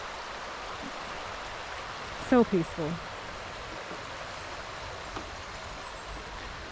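Steady broadband rush of flowing stream water at a campsite in North Georgia's Deep Hole Recreation Area fills the whole clip, with a brief spoken remark in the middle.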